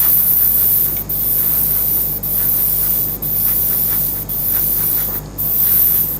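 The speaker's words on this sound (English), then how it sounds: "I'm rotating the part every time I spray, because you don't wanna overspray something" A part being spray painted in short repeated bursts of steady hiss, about one per second, with brief pauses between them as the part is turned. The hiss is close, loud and continuous, and nobody speaks.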